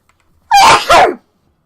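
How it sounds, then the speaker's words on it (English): A single loud, close sneeze from a person with hay fever comes in two quick bursts, with a sharp explosive release after a short intake, and silence before and after. "I'm gonna sneeze."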